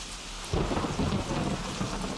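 A thunderstorm: heavy rain hisses steadily while a deep roll of thunder swells in after a quiet moment and rumbles on, loud and close, with no voices.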